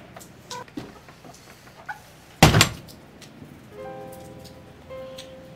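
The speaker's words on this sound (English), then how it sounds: "Why do these children like to bang doors?" A door is banged shut indoors in a house, one loud sharp slam standing out against quiet room noise, with a faint hum and light background sounds after it.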